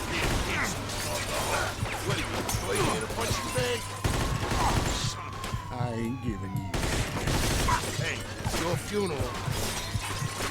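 Rapid bursts of gunfire and clanking mechanical effects from the video game Mafia 2 crackle in quick succession, with a voice talking over the shooting in places.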